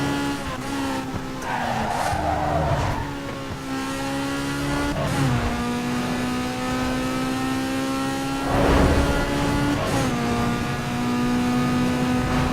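A car racing fast down a street in Need for Speed Underground 2, a loud steady engine whine climbing through gear shifts, with bursts of tire skidding and squeal, no talk.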